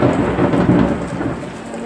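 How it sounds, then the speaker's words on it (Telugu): Heavy rain pours steadily in Vijayawada while thunder rumbles low and continuous through the downpour, loud and close, with no voices. "ఉరుములు మెరుపులతో మాకైతే బాగా వర్షం వస్తుందండి విజయవాడలో"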